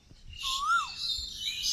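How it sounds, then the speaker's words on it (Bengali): Birds calling outdoors, with a cuckoo also heard nearby: a single clear, rising-and-falling whistled call stands out close by over a steady wash of fainter, high-pitched chirping in the background. "এদিকে পাখি, অন্য একটা পাখি ডাকছে।"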